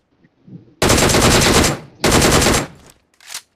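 Automatic gunfire spraying in the mobile battle royale game BGMI, two loud rapid bursts of about a second each followed by a shorter third burst, close and dominant.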